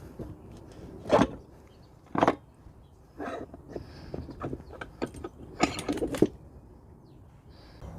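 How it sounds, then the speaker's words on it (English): A transmission front pump pried and pulled out with vise grips, heard as several sharp metallic scrapes, clanks and rattles in irregular bursts, close by against a quiet workshop background. "you can always use vice grip and you can just pull it out that way"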